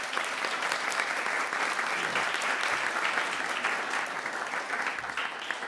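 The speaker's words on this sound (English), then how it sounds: "You can give her a big hand." Applause from the audience at a Westminster candidate forum after thanks to a League of Women Voters moderator, a moderately distant, steady patter of many hands lasting several seconds.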